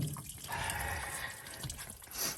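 Water spurts and drips from a pressurized hose near a car alternator, a close, splashy trickle with uneven gurgles and patters throughout.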